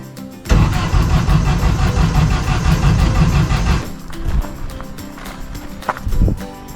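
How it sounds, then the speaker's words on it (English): A 1958 Willys Jeep CJ5 engine cranks rapidly, unprimed, with a loud churning starter rhythm for about three seconds, then stops, leaving scattered clanks and small mechanical noises. "it's going to take a few cranks to get the engine primed"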